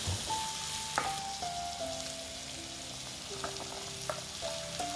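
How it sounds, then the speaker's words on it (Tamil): Tomatoes sauté in a pan for rava kichadi and are stirred now and then. A soft, even sizzle carries a few light scrapes, with a faint tonal hum running underneath. "தக்காளி வதங்கினையும் நல்லா கலந்து விட்டுக்குவோம்."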